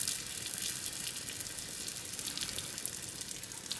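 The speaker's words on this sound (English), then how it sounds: "I saved a little bit of the wonton wraps to put in the oil to test it." A wonton wrapper sizzles in hot frying oil, a steady close hiss with fine crackling bubbles that holds evenly throughout with no talking.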